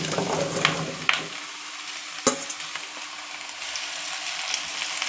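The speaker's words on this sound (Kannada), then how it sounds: "ಈರುಳ್ಳಿ ಎಲ್ಲ ಚೆನ್ನಾಗಿ ಮೆತ್ತಾದ್ಮೇಲೆ ಇವಾಗ ಇದಕ್ಕೆ ನಾನು ಕುಂಬಳಕಾಯನ್ನು ಹಾಕ್ತಾ ಇದ್ದೀನಿ" Pumpkin pieces frying with onions in oil for kumbala kayi palya: a loud sizzle that quiets after the pieces go in, with a sharp clatter of a utensil against the pan, then a steady softer hiss.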